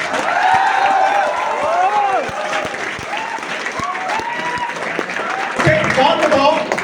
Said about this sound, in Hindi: एक बार अपने सम्मान में तालियां हो जाओ।